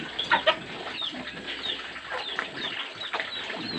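Chickens clucking and chattering nearby, with a few sharper squawks early on over a steady farmyard background.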